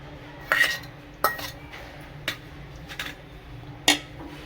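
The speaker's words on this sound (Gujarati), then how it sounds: "હવે એને હલાવવાનું." A spoon stirs handvo batter with beetroot in a bowl, making a few sharp clinks against the rim between quieter scraping strokes, close and with no talk.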